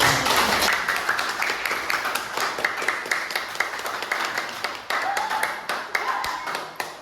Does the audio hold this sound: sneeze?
no